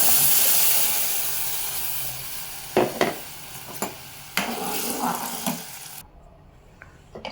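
Beans, broccoli, tomato, potato and carrot stir-fry in a pan, a soft steady sizzle broken by several clattering stirs, fading quieter near the end.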